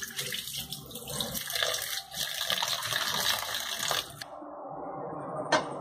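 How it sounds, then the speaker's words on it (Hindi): Cold tap water runs in a steady stream over freshly boiled spaghetti being rinsed in a kitchen sink, a close, rushing splash that cuts off near the end, leaving a short drip. "उसको अच्छी तरह से आप ठंडे पानी से गुजार लें"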